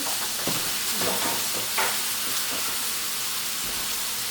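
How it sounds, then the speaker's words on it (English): Steak frying in a pan with butter, garlic and rosemary gives a loud, steady sizzle and hiss, with stirring and spoon clinks scraping through the constant crackle. "let that butter and garlic and everything infuse together, and all you're gonna do is baste the steak"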